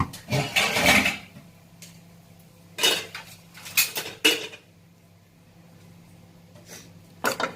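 A metal cooking pot set down in a kitchen while making cauliflower veg biryani, giving several close clanks and rattles of metal cookware in uneven bursts separated by quiet gaps, with no talking.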